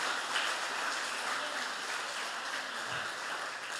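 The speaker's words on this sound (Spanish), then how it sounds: "Démosle ese aplauso a Jesús." Church congregation applauding during a pastor's service, a steady, faint wash of clapping that stays even throughout with no voices over it.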